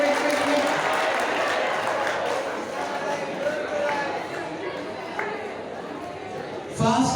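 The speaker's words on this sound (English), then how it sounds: "Give them a big round of applause." Sustained applause from a large crowd fills the whole stretch, dense and steady, with a voice rising briefly over the clapping near the end.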